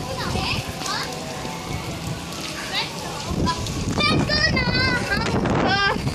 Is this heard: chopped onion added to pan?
no